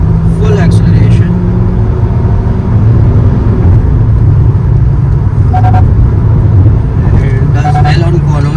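A 2023 Kia Seltos GTX+ with a 1.5 turbo petrol engine and 7-speed dual-clutch gearbox pulling under full throttle after a downshift, a steady loud engine drone heard from inside the cabin with someone talking over it.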